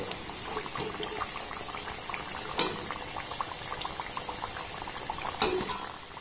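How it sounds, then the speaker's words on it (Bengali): Wheat-flour biscuits deep-fry in oil, giving a soft, even bubbling hiss at moderate distance with a couple of brief clinks of a utensil against the pan. "একইভাবে সবগুলোকে আমি ভেজে নেব।"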